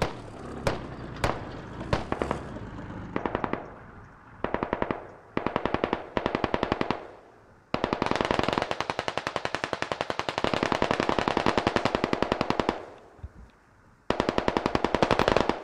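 Machine gunners firing in the Squad military game, an MTLB-mounted gun among them, loud close bursts of rapid automatic fire broken by short pauses, with long sustained streams near the middle and end, no talking.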